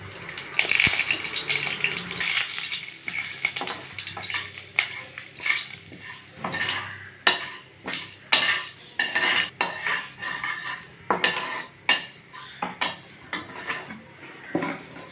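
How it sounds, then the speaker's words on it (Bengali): Chili, panch phoron and bay leaves frying in hot oil produce close, busy crackling and sputtering, mixed with repeated clattering scrapes of a spoon against the pot. "লঙ্কা পাঁচফোড়ন তেজপাতা এটা এবার তেলে দিয়ে দিলাম"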